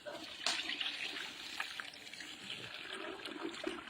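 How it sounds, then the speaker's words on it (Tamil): Water poured over rice to soak it for mutton biryani, a faint, brief splashing trickle close by with small gurgles. "வாங்க நம்ம அரிசி ஊற வச்சிடலாம்."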